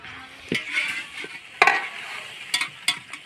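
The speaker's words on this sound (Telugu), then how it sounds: "బాగా మిక్స్ చేయాలి ఇది మసాలా పట్టాలి బాగా ముక్కకి" Spicy curry is stirred in a pan, with a soft sizzle beneath intermittent scraping strokes and sharp spoon knocks against the metal, close and uneven in rhythm.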